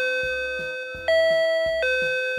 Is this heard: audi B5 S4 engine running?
no